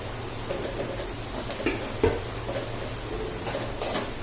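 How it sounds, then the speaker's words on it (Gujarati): Spice paste going into a pan of browned ivy gourd curry and being stirred, with scattered scraping clinks of a spoon against the pan over a steady low background hum. "આપણે જે મસાલો પીસો એને એડ કરી દઈશું. એકદમ સરસ મિક્સ કરી લેશું."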